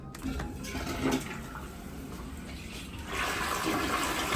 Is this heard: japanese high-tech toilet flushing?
yes